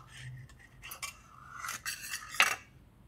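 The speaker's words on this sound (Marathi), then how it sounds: "आपण थोडं सुरीला तेल लावून आता कट करून घेऊया" An oiled knife slices through cooled jowar (sorghum) vadi pieces, giving a few soft scraping cuts and light clicks of the blade against a plate, close and fairly quiet, with no talk.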